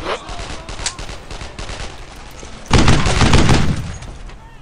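Gunfire in the World War II shooter Brothers in Arms: Earned in Arms, a steady rattle of rifle and machine-gun shots that swells into a dense, loud volley of bursts midway, with voices shouting underneath.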